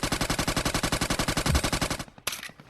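In Scarfall 2.0, a mobile shooter, automatic gunfire is aimed at a player coming down by parachute: a fast, steady burst of about two dozen loud shots lasting two seconds, followed by a pause and a few more sharp cracks.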